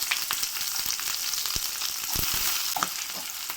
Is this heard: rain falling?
no